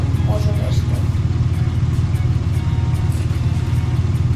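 A car engine drones in the game Slide Down A Hill, a loud, steady mid-pitched rumble that holds constant over the few seconds, with a voice faintly present.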